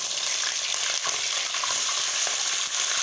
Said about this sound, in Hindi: अब इसको चारों तरफ से चिकन को ऑयल में मिक्स कर रहे हैं ताकि चारों तरफ से फ्राई हो जाए।